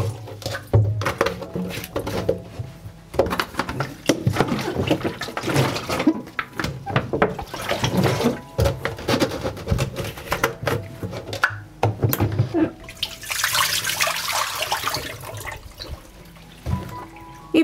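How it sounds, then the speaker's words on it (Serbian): Water sloshes and swirls inside a bottle as ash is rinsed out, in uneven bursts of gurgling and pouring with short pauses, ending in a brighter trickling splash. "Ispraću flašu od pepela."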